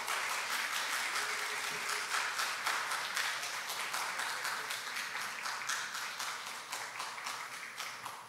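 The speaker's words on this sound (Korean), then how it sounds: "박수로 환영해 주시기 바랍니다." Sustained audience applause welcoming a choir conductor onto the stage at a summer worship and music revival event, a dense, steady clapping from a large crowd that holds evenly throughout and tapers only slightly at the end.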